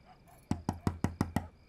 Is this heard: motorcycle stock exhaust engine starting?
no